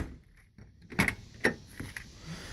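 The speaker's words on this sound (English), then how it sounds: "Let me just open up the door again." Door of a Datsun 200SX S110 being opened, with a few sharp latch clicks and clunks close by, spaced over a couple of seconds in a quiet interior.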